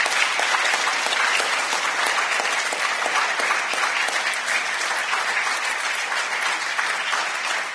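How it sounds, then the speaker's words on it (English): Steady applause from a roundtable event audience for Valerie Duffy, a dense, even wash of many hands clapping at close range that holds at a constant level for the whole stretch. "I think you just about missed your round of applause."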